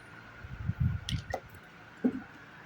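Fish being mixed by hand with salt, turmeric and raw mustard oil, giving soft wet squishing and squelching sounds in a few close, irregular bursts with small clicks between, no talking.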